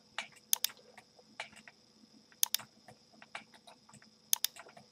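Rapid clattering of keystrokes on a computer keyboard while entering exocad shortcuts such as Ctrl+Z, sharp clicks landing in uneven bursts with brief pauses, close and fairly quiet with no talking.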